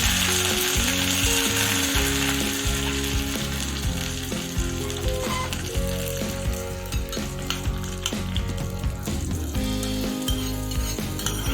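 Urad dal, mustard seeds, chana dal and curry leaves sizzle and crackle in hot oil for a chutney tempering, a steady loud frying hiss with scattered pops and spoon clatter, no voices.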